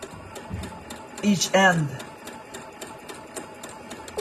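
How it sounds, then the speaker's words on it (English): A sewing machine runs on thin, light fabric with a fast, even rapid ticking close by, while someone talks over it briefly in the middle. "I have to stop the machine and roll my fabric"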